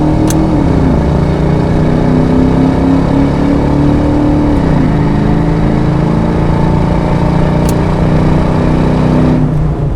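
A 1993 Ford Mustang LX hatchback with a 5.0 V8 and automatic transmission accelerating under heavier throttle, a loud steady engine drone with rising pitch and a brief dip around a gear change, no talk.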